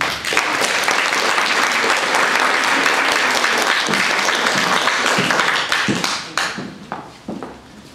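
An audience bursts into loud, sustained applause as speaker Robert Lane Greene is welcomed at a talk, dense clapping that thins out and fades toward the end.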